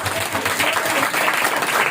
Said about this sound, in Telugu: కొట్టు చప్పట్లు.